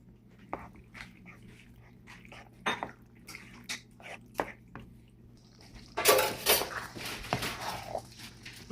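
Cooked noodles tumble into a pan of shrimp in creamy sauce, with scattered soft clinks and wet taps of a utensil, then a louder burst of sizzling and scraping as everything is stirred together close by.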